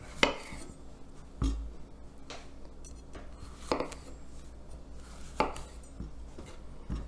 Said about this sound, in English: I'm going to cut each of these zucchini into thirds